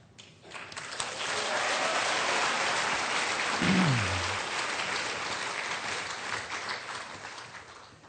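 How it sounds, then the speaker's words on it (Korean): A church congregation at a Sunday service gives loud, sustained applause to welcome the pastor to the pulpit. The dense clapping swells quickly and continues evenly, with a brief low tone partway through. "나오실 때에 큰 박수로 할렐루야를 환영하겠습니다"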